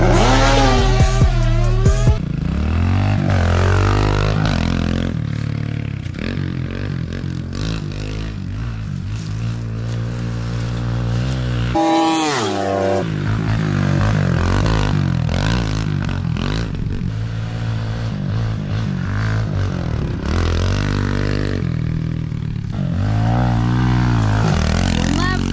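Two 110cc dirt bikes, a Honda CRF110 and a Kawasaki 110RL, race with loud, continuous engine noise that revs up and down through gear changes, close and steady, with a brief dip partway through and no talking.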